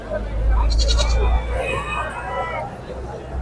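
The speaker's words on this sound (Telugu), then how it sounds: "ఈ పక్క మేకలు ఉన్నాయి." Goats at the Jammalamadugu livestock market bleat loudly and close by, several wavering calls in succession, while people talk in the background.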